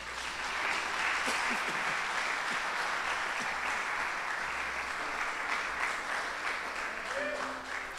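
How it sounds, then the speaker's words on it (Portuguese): A church congregation applauds during a worship service, a steady wash of many hands clapping that holds for the full eight seconds, with faint voices underneath. "Se você puder aplaudir o Senhor"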